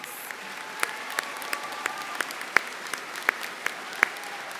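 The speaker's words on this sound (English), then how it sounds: "Let's give them all a round of applause." An audience at a Central Lakes College commencement ceremony in Brainerd applauds steadily for several seconds, a sustained patter of clapping with a few sharper individual claps standing out.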